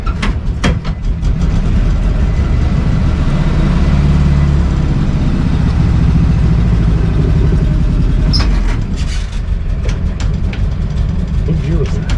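A 1953 Willys Jeep CJ-3B engine idling steadily on choke, a loud continuous low rumble with a few clicks and knocks, and no talking.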